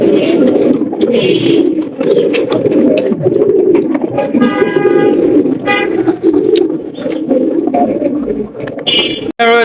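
A large pair of Bombay pigeons, male and female, coo loudly and continuously at close range in rolling, throaty calls, with a few sharper background sounds scattered through.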